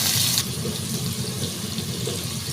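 Mustard and fenugreek seeds spluttering in hot oil for a kulambu make a steady, close crackling sizzle that runs unbroken throughout, loudest at the very start.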